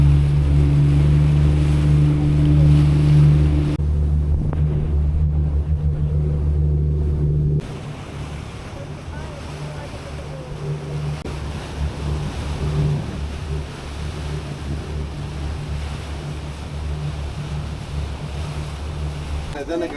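A ferry pulls away with its engine droning steadily beneath wind and the wash of waves, loud and continuous throughout, with a drop in level partway as the wind buffeting eases.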